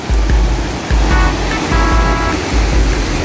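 Ocean waves at a beach in Bali break and wash ashore in steady repeated surges, loud and close, with no talking.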